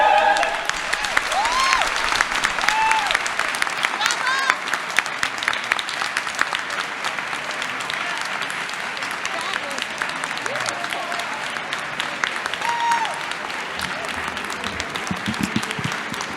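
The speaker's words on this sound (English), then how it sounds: "Another warm round of applause" Audience at a university convocation applauding warmly, dense steady clapping from a large crowd that slowly thins toward the end, with whoops and voices mixed in.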